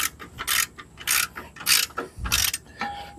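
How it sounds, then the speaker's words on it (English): A ratchet wrench works a belt tensioner pulley bolt on a Jeep TJ Wrangler, giving four short, loud bursts of ratcheting clicks close up, with brief pauses between strokes. "Why do you loosen the bolt on the tensioner?"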